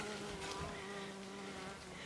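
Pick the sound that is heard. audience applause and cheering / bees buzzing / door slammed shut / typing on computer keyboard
bees buzzing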